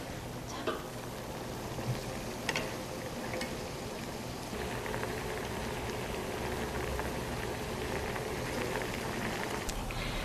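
Water boiling in a pot with shrimp cooking inside, a steady dense bubbling hiss with occasional small pops, close and continuous with no talk.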